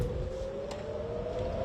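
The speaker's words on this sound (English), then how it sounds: "When the sirens ring, it's time to go." Air raid siren in Israel, a steady tonal wail held faint and distant over low background rumble.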